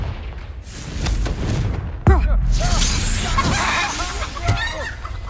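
Confringo fire spell blast in the video game Hogwarts Legacy: a sudden booming burst partway through, followed by crackling, whooshing magical effects amid game voices and background action.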